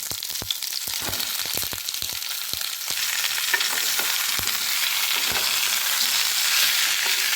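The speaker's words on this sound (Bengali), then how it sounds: "তেল গরম হয়ে গিয়েছে, তাই এখন আমি এর মধ্যে পটলগুলোকে একে একে ছেড়ে দেব।" Pointed gourds dropped one by one into hot mustard oil in a wok set off a loud, close frying sizzle that builds into a dense crackle, with sharp clicks and taps as each piece goes in.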